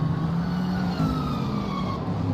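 GT3 race car engine in a sim racing game at Silverstone, a steady loud droning whine with rising harmonic tones, continuous and close with no talk over it.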